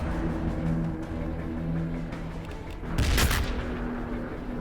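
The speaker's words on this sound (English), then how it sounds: "just watch how these grenades are going to just clear out the land here for us" A grenade burst in the Warhammer 40,000: BattleSector battle game: one loud explosion cuts through steady low battlefield rumble and scattered gunfire, with a hum running underneath.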